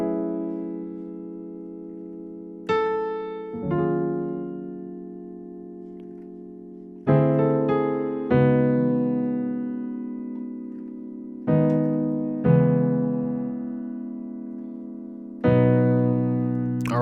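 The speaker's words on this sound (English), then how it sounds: "So that is the loop very slowly" Slow piano loop from a song: widely spaced chords struck one after another, each left to ring and fade for a couple of seconds, close and unaccompanied, no voices.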